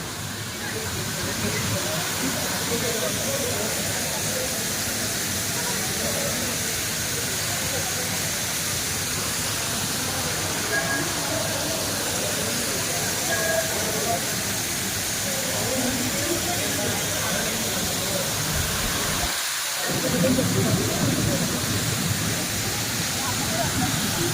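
A dense, continuous roar of heavy rain at Chikhaldara fills the scene, briefly dropping out near the end before returning just as loud.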